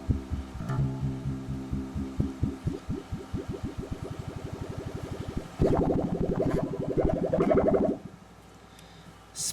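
Spin Cycle synth effect on a Line 6 FM4 filter modeler pedal: a rapid pulsing tone that swells into a dense, swirling burst, then cuts off sharply into near quiet, with no voices.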